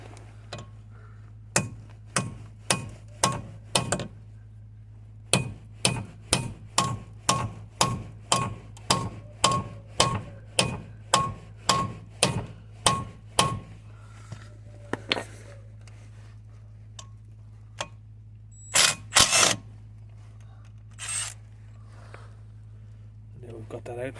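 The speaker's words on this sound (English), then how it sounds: "So we're now left with having to try and hammer something a little bit bigger in there" Sharp metallic hammer strikes ring out on a Vauxhall/Opel Astra front brake disc in a steady series of blows, pausing briefly, then a few scattered knocks over a low hum.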